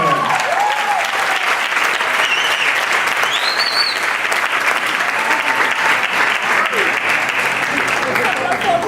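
Steady applause from a church congregation during a Spanish-language prayer house service, dense and sustained throughout, with a few faint voices rising over the clapping.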